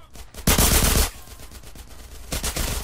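Bursts of automatic gunfire from a police shootout at a motel in the video game GTA San Andreas. The clip has two loud, rapid volleys with a quieter stretch between them and no talk.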